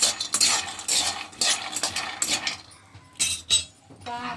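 Almonds frying in a pan while being stirred for a peanut-coconut chutney, with loud close scraping and clinking of a spoon against the metal pan in uneven strokes and a brief pause near the end.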